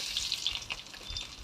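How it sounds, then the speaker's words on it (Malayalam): Mustard seeds splutter in hot oil with crushed garlic and curry leaves for a tempering. A close, continuous sizzle carries sharp little pops and crackles over a brief moment, with no talking. "കറുവേപ്പിലയും വെളുത്തുള്ളി ചതച്ചതും കൂടെ കടുക് പൊട്ടിച്ച് നല്ലോണം വെളുത്തുള്ളി മൂപ്പിച്ച്"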